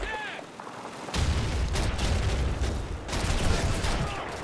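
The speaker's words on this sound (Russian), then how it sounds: "Ловите гранату." A grenade blast and gunfire in Call of Duty 2 during a battle for a train station: a heavy boom breaks in, followed by rolling, rumbling explosions and bursts of shots, loud and close.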